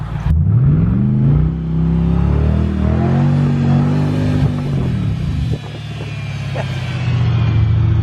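A car with a lightweight stripped build revs hard while one wheel spins with no traction. The engine note climbs and holds loud and close, dips briefly and then rises again in a sustained, rumbling roar.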